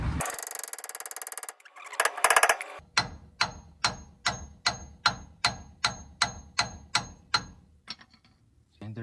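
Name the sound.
hammer whacking lower ball joint of a Tacoma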